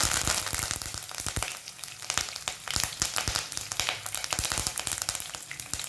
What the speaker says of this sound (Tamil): சீரகம் நல்லா பொரிஞ்சதுக்கப்புறமா கடுகு ஆட் பண்ணிக்கிறேன். கறி லீவ்ஸ் கொஞ்சம் ஆட் பண்ணிக்கலாம்.